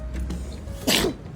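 A single sharp sneeze bursts out near the end, close and loud over a low background hum.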